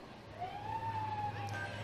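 A distant ambulance siren at an evening parade of lights rises and falls in one faint, slow wail, heard under low background crowd noise.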